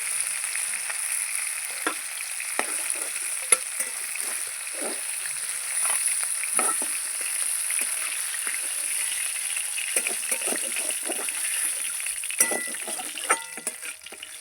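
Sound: katla fish heads frying in a wok

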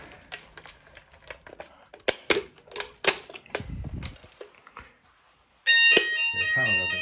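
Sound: fire alarm panel sounders activated by a call point

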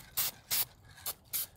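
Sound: spraying lacquer from a spray can onto metal

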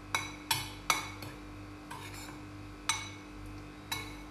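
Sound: mixing gram flour batter with baking powder and salt

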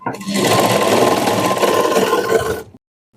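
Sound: sewing machine stitching a double cut work blouse

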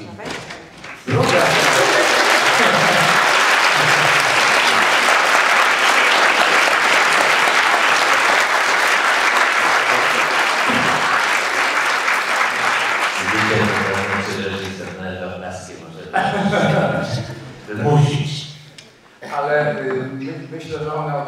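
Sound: audience applause

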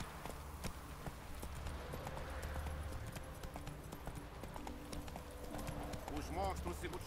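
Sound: horse galloping in The Witcher 3 video game

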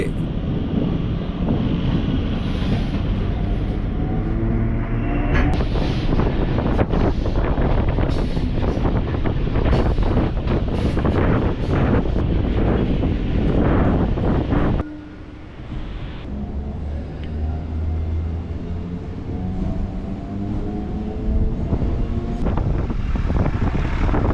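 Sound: Chennai suburban MRTS train starting from Chepauk station

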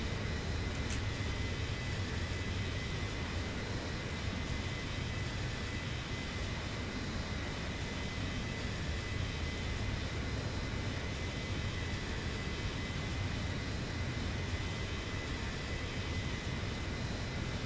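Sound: Boeing 737-900ER engines in X-Plane 11 video game, after takeoff

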